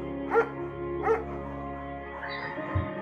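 A German shepherd dog in the video game Firewatch gives two short, clear barks, followed by a softer whine over a steady low background hum.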